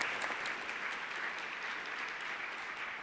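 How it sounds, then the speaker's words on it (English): Steady, even applause from a campus audience at a university vice-president's research address, honoring Baljit and his team, heard as continuous mid-distance clapping with no talk for its full length. "another round of applause for Baljit and that team that he introduced there"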